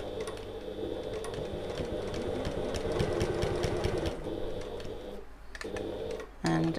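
A sewing machine runs steadily while stitching a bag at a tiny stitch length, with a rapid, even mechanical chatter that pauses briefly near the end before starting again.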